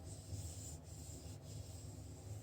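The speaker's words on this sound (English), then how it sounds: "I might as well go ahead and polish that while I have it off the bike" Steady rubbing and scrubbing, a continuous abrasive swish of hand-polishing oxidized paint on a part from a 1978 Schwinn Hurricane 5-speed bicycle, close and moderately loud, with no talking.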